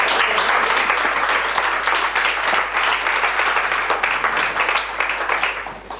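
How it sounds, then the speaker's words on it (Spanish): Loud, dense applause from an audience at a Spanish history lecture, the clapping sustained and close before tapering off toward the end. "le dais un aplauso"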